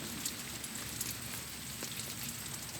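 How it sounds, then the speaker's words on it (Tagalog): Steady rain falls alone over Philippine rice fields, a dense continuous hiss with scattered drop patters, fairly close and even throughout. "sana wag naman lumakas nang lumakas yung ano yung ulan at saka hangin"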